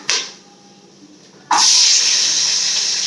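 Onions and green chillies hit hot oil in a pot, bursting into a loud, steady sizzle that holds strong after a brief quieter hiss, cooking for a paneer biryani made with seeraga samba rice.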